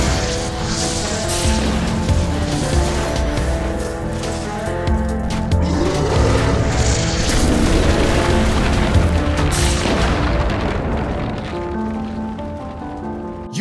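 A dense, booming clash as Obelisk's Fist of Fury attack meets Ra's Blaze Cannon in a Yu-Gi-Oh duel, with layered rumbling crashes and rain-like hiss that swell and sustain before cutting off abruptly.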